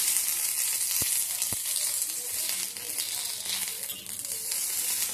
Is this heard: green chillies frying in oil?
yes